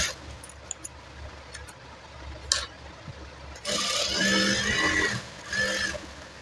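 A sewing machine stitches blouse lining cloth in two bursts of running noise, a longer one and then a shorter one, after a quiet stretch broken by a few light clicks and taps.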